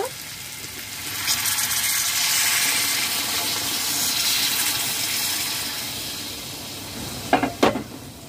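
Hot water poured into a pan of sautéed jackfruit and boiled potato, giving a broad hissing sizzle that swells and settles over several seconds, with a couple of sharp clinks near the end.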